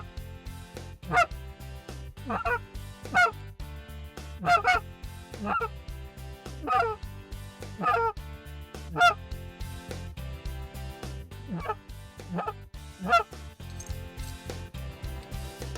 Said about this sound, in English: then we had some geese come through and a single broke off